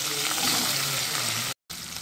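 Onion tossed into hot oil with curry leaves and asafoetida for rajma masala, giving a loud, close, dense sizzle that holds steady, breaks off briefly, then resumes.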